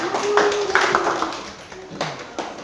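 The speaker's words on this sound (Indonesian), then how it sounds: "kita beri tepuk tangan" Classmates clapping after a group presentation in a classroom, a short uneven burst of hand claps from a small group, fading quickly, with a voice speaking over it.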